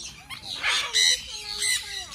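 A turkey in a bird aviary at a resort gives sharp squawking calls in short bursts, nearby and moderately loud, with other birds faintly in the background.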